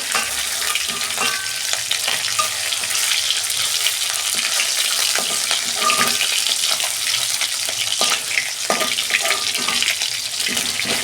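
Boga fish frying in hot oil in a kitchen pan, a steady dense sizzle and crackle with scattered pops and stirring scrapes, continuous and close throughout.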